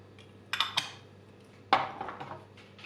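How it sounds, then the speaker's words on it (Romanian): A spoon stirs yogurt with garlic powder, marjoram, thyme, salt and ground pepper in a bowl, knocking and scraping against the sides in two short bursts of clinks, close and fairly clear. "Amestecăm bine totul."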